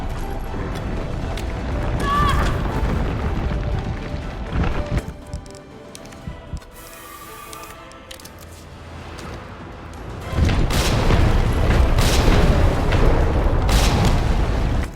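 Grenades explode in the Resident Evil 3 Remake video game, with several heavy booming blasts and gunfire-like bursts, including a dense loud stretch near the end, and a lull in between.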